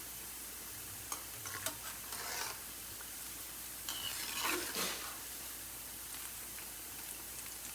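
Mung bean and spinach pakoras frying in hot oil, a steady soft sizzle with scattered crackles and brief stirring sounds, close by and fairly quiet, no talking.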